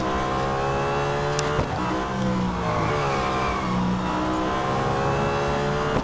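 Nissan Altima supercar from 2018 racing flat out around Hockenheim in Real Racing 3, its engine droning steadily with rising and falling revs throughout, loud and continuous with no voices.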